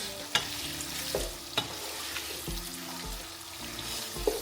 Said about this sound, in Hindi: प्याज डालेंगे इसमें कि ऑलरेडी ऑयल और घी गर्म हो गया है।